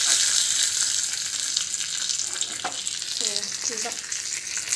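Curry leaves frying in hot oil for a coconut chutney tempering give a steady close sizzle, with a few brief stirring scrapes in the background and no speech.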